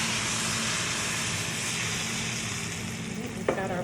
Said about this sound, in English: So we're going to put the broth in.